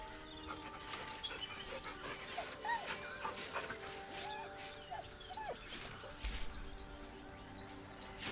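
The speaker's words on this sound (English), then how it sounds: "The dog whimpers nervously," Scratch, a dog in Baldur's Gate 3, whimpers softly in short, scattered whines over a steady bed of game ambience and faint birdlike chirps, with no speech.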